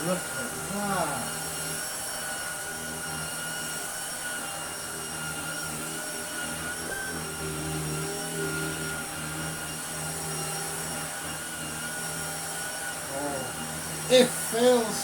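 A vacuum cleaner with an aggressive brush roll drones steadily throughout over foam carpet tiles, with occasional rattles and brief bumps near the end.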